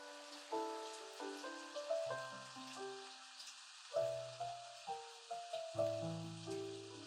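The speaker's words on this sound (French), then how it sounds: "Il pleut des cordes." Steady hiss of heavy rain pouring down at night, with soft background music beneath, no talk.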